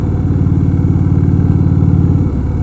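An Indian Roadmaster motorcycle engine rumbles steadily and loudly while riding, a low, even throb with a faint change of pitch near the end; no voices.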